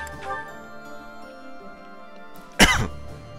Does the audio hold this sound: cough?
yes